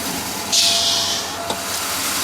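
A steady high hiss from a vacuum actuator on a 1980 Ford Thunderbird Town Landau with a 5.0 V8 rises abruptly, holds for about a second, then fades, followed by a brief click; faint mechanical background throughout, no talking.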